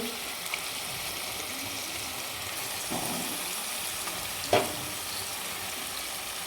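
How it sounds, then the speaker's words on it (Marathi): Washed murrel fish pieces go into a hot, sizzling pan for a spicy home-style fish curry, producing a steady close frying hiss with one sharp burst of sizzle near the end. "माशाचे तुकडे आहेत जे आपण छान असं धुवून घेतले होते ते टाकून घेणार आहे"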